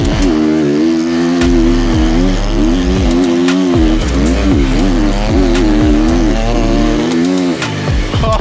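A turbocharged 150 dirt bike engine revving hard, close and loud, with repeated rising and falling throttle sweeps and a buzzing, raspy tone throughout.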